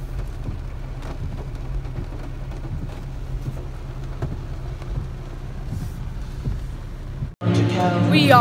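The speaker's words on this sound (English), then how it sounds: "Yep, it's raining once again" Rain falls steadily on a rainy day in Gatlinburg, a soft, continuous patter with scattered drips and a low rumble beneath. A voice briefly speaks up close at the very end.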